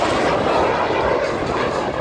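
The jet engine of a giant-scale 110 kg radio-controlled Alpha Jet model airplane roars at an air show, a steady, loud broadband rush that holds without a break.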